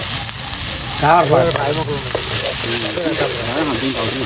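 Food fries in a pan with a loud, steady sizzle while it is stirred, and people talk over the continuous crackling.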